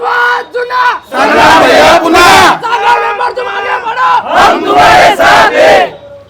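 Supporters of a politician celebrate in Ahilyanagar with loud, surging group cheers and chanting in repeated bursts, close and energetic throughout.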